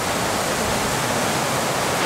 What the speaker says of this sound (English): Looking straight down the waterfall.